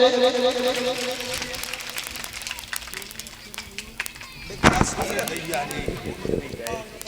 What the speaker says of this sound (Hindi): ताली बजाएं, स्वागत करें।